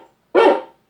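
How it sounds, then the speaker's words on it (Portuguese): A single loud, close dog bark, short and sharp, in an otherwise quiet moment. "o som médio do cachorro"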